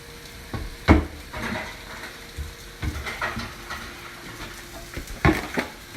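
Steak for keto fajitas in a pan with sauce, soft sizzling under scraping and stirring, with several sharp clanks of a utensil against the pan.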